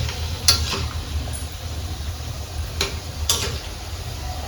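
Gaja sweets frying in oil in a home kitchen make a steady low bubbling sizzle, with a few sharp ticks and clinks from a utensil against the pan and no voices.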